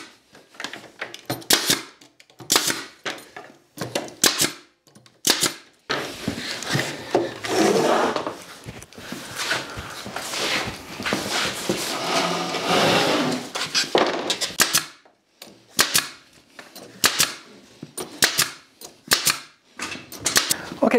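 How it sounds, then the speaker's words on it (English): Staple gun fixing wooden laths to a garden screen frame, a series of sharp close snaps in quick bursts at the start and end, with a stretch of scraping and rubbing wood handling between them. "I'm going to nail them in place with a staple gun, and then I'm going to staple the trellis to that."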